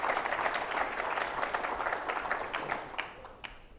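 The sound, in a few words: audience applause at a conference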